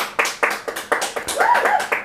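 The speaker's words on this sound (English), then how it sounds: "Come on, y'all. I'm on mute mics and clap for her" Several people clapping over a call, a run of uneven claps in quick succession, close and fairly loud, with a faint tone or voice briefly underneath.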